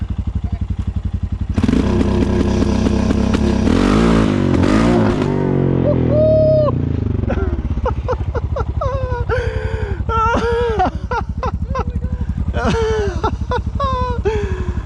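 A nitrous-equipped Honda four-wheeler launches hard, its engine droning loudly and then revving in quick rising bursts, close and continuous throughout.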